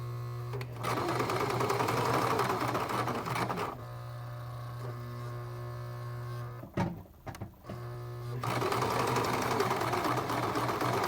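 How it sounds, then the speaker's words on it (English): A sewing machine stitching fabric for a face mask runs in long, loud continuous whirring bursts, stopping briefly before starting again, close up and without speech. "you're gonna sew that"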